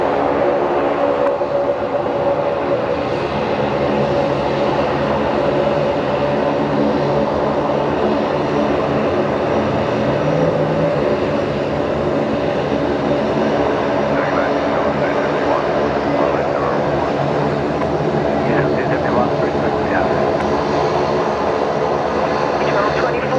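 A plane touching down on runway 01 right at Brisbane Airport, a distant sustained engine roar under steady ambient noise, with a person talking over it.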